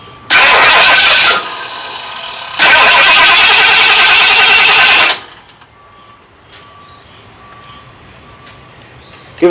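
A Ford Dentside shop truck engine cranks in two loud bursts, the second longer, then drops to a much quieter, low running sound with faint clicks.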